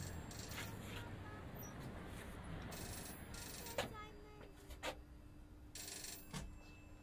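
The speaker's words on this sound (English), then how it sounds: "There's the phone ringing." Telephone ringing inside the audio game Papa Sangre, a repeated electronic ring in short bursts over a steady ambient background, fairly faint and mid-distance.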